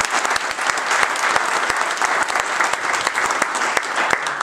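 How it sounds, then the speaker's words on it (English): An audience gives a steady, dense round of applause, with many hands clapping together at close range and sharp individual claps standing out throughout. "I think a round of applause for"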